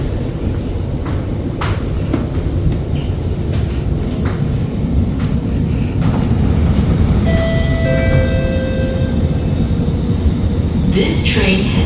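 SMRT metro train running between Tanah Merah and Pasir Ris in Singapore: a loud, continuous rumble of wheels on track fills the whole stretch, with faint clicks and a brief high whine midway.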